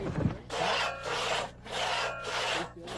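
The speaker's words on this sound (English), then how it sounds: "Why are they sawing that log the hard way?" A crosscut saw rasps rhythmically through a log, with a few long back-and-forth strokes separated by brief pauses.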